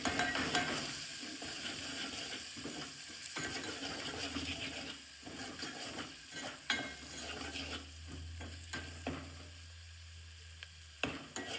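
A spiced tempering of cumin, garam masala and salt for village-style khichdi sizzles in a pan while being stirred, with an ongoing close hiss broken by repeated scraping strokes and clicks.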